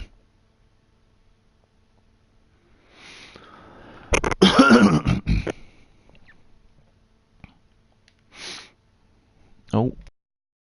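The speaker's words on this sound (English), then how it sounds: "Sorry for the coughing as well." A short burst of harsh coughing rasps out, followed later by a brief sniff and a gasping breath, with near silence between them.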